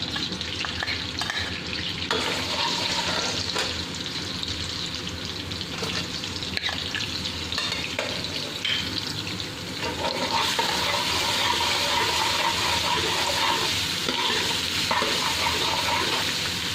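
Garlic sizzling and crackling in a cup of hot oil, a steady loud fry throughout, with occasional stirring scrapes.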